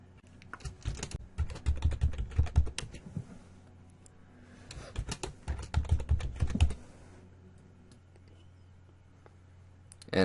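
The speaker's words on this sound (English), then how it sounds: "in the user, we're going to type in student1 and the password for his account" A username and password typed on a computer keyboard, two separate bursts of quick, close key clicks with a quiet pause between them and no talk.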